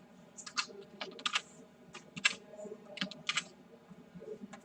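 Fingers type a spreadsheet formula on a computer keyboard, irregular clusters of close, light key clicks and taps.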